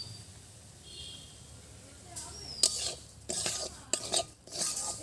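Semolina being stirred as it fries in ghee, quiet at first, then a run of close spoon scrapes and clinks against the pan over a low sizzle.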